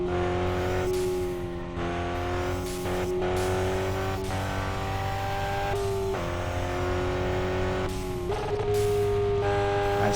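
Car in a drag race in the video game RevHead, its engine revving hard and climbing in pitch through several gear shifts, each one marked by a brief drop before the loud engine tone rises again.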